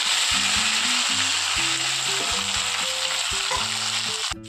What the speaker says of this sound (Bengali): আর দেব গোটা জিরে। একটু ভেজে নেব।